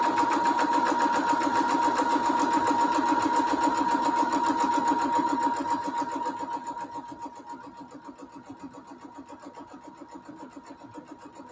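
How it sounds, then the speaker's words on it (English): Backstitching on a cathedral window quilt pillow case, the sewing machine hums in one continuous close run with rapid needle pulses, loud at first and then slowing and softening after about six seconds. "Let me backstitch a little bit."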